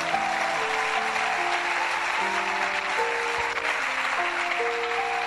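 A church congregation applauding in a dense, steady wash of clapping that runs unbroken throughout, with sustained keyboard or organ notes stepping through a melody beneath it.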